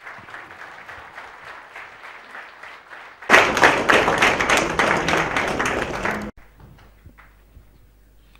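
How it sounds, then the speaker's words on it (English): Audience applause for a speaker at a talk on millets and health breaks out abruptly, loud dense clapping for about three seconds before cutting off, after a stretch of softer rhythmic sound. "Round of applause for the Khadar sir"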